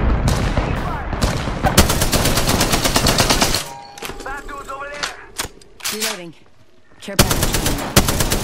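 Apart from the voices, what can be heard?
gunfire from the video game Apex Legends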